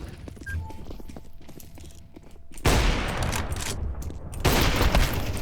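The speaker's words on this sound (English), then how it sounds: "Throwing flashbang." Flashbang grenade in Counter-Strike 2 bursting with a sudden loud, harsh blast that cuts through quieter game ambience with light footsteps, followed by ringing noise and a second loud surge of sound.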